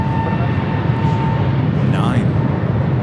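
An Aeromexico Boeing 737 bound for Mexico City at max thrust on runway 24 left at LAX, a loud, steady broadband jet roar heard from a distance, continuous throughout with a faint whining tone above it.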